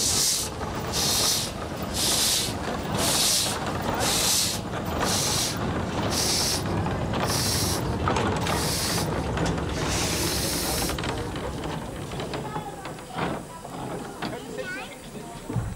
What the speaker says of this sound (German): Und schon wird die nächste Dampflok bereitgestellt.